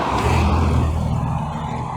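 Minibuses and other road traffic pass on a highway leaving Poltava toward the north, a loud continuous engine rumble and tyre roar of vehicles going by close at hand, with no speech.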